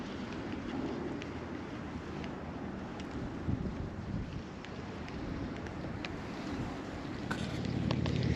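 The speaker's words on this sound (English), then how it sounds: "It's definitely a little bit breezy out here." Breezy spring wind rolls steadily across a lake, a continuous broadband rush that swells toward the end, with faint water slaps and small knocks scattered throughout.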